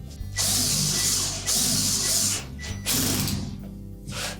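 Ratchet tightening machine-thread hinge retaining screws on a Whirlpool washer, giving three bursts of dense rapid clicking with brief pauses between, close and fairly loud, with no talking.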